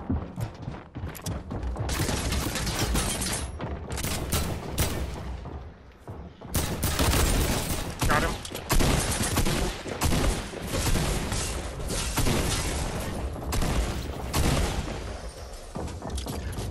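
A Fortnite minigun fires in long, dense bursts, loud and close, with a short break midway before the rapid rattling resumes over other game noise.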